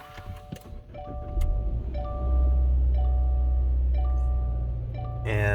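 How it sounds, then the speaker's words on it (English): A 2022 Subaru Ascent AWD SUV engine cranks and catches, settling into a steady low idle rumble, with a few soft electronic chimes sounding over it. "Let's go ahead and start the car."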